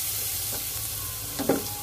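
Ground spice paste frying in a pan over lowered heat, with a quiet continuous sizzle and a couple of soft stirring clicks, close and alone.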